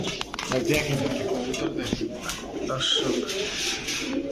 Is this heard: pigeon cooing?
yes